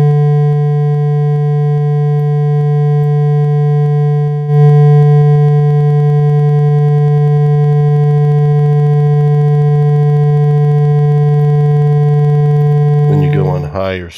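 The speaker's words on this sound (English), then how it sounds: "And then the sawtooth." A synthesized sawtooth oscillator tone built in Pure Data holds one steady, buzzy, harmonically rich pitch for about thirteen seconds. It is loud and continuous, then breaks into brief chirping sweeps at the very end. No one speaks.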